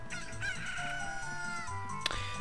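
Chicken crowing in Zelda: Ocarina of Time, a drawn-out rooster call over a busy low game background, followed by a sharp short cluck-like burst near the end.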